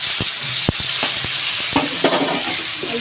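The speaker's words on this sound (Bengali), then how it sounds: "তেলটা গরম হয়ে গেছে, এবার আমি আলুটা দিয়ে দেবো।" Potatoes fry in hot oil for a Bengali chire pulao, a steady close sizzle broken by sharp clinks and scrapes of a spatula against the pan, with no talking.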